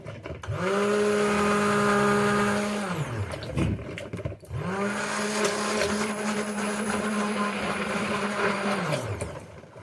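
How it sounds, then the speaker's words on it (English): A stick blender whirs steadily in two long runs while mixing soap, a high motor hum with a short break between, close and loud, with no talking. "My stick blender"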